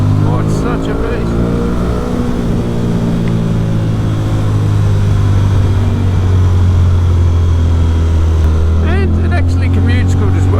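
An Aprilia Tuono 660 motorcycle engine drones loudly and steadily while riding, with a strong low hum and a brief pitch change near the end.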